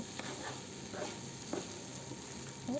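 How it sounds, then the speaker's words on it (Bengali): Boiled noodles stirred around a hot pan, soft sizzling with a few faint scraping strokes of the utensil, low and steady throughout. "এদিকে আমি সিদ্ধ করা নুডলসটি দিয়ে দিলাম দিয়ে এভাবেই নেড়ে চেড়ে নেব"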